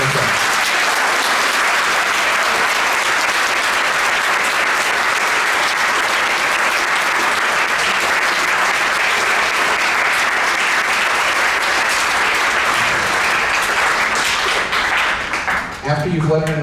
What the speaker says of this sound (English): Please give our letter winners a big round of applause.